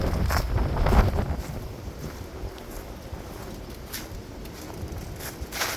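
Wind gusting outdoors on a blustery day at a house under inspection, a steady broadband rush that swells loudest near the start and then settles into a continuous buffeting roar against the microphone.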